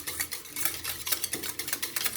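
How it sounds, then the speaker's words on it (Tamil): Curd (yogurt) being beaten in a bowl makes a fast, steady run of close, light scraping clicks with no voices. "தயிரை வந்து நான் என்ன பண்ணுறப்போ நல்லா பீட் பண்ணிக்கிறேன்"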